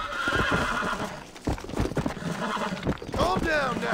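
A malnourished horse in Red Dead Redemption whinnies with a rising, wavering neigh near the end, over a dense bed of stamping, clopping hooves and scuffling, loud and close throughout.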